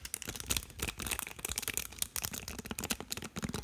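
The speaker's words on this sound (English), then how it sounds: "I really love the sound of this brush." Close-up ASMR brushing with a plastic, silicone-like brush, giving rapid crisp bristly strokes in an irregular rhythm, quiet and intimate with no talking.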